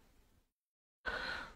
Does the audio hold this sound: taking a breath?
yes